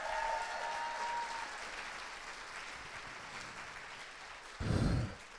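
A literature festival audience claps in a steady, moderately loud round of applause that fades a little, with a brief breathy sound near the end.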